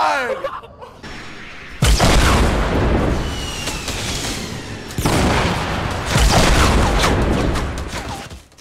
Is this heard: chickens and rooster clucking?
no